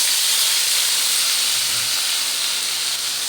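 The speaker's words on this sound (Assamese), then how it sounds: "ধুনীয়াকৈ ফ্ৰাই কৰি মই এইখিনি তেলতে আপোনাৰ পিঁয়াজ দি দিম" Onions frying in hot oil, a steady broadband sizzle and hiss that holds near-constant throughout, with no voices.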